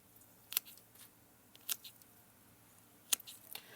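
Tomato plant stems being snipped in a container garden: three or four sharp, quiet cuts spaced irregularly, with faint rustling of leaves between them and no talking.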